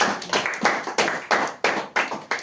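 A church congregation claps in a steady rhythm, sharp hand claps about every third of a second, close and fairly loud, with no talking.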